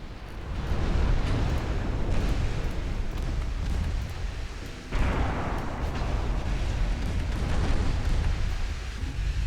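A torpedo strikes a ship in a naval video game, a heavy rolling explosive rumble that persists throughout, with a sharper fresh blast breaking in about halfway before the roar carries on, loud and close.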